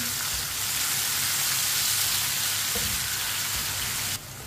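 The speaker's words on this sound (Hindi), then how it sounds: "टमाटर को भी 1 मिनट के लिए पका लेते हैं।" Chopped tomato fries with ginger and garlic in a pan, a steady close sizzle that holds evenly for a few seconds and drops abruptly at the end.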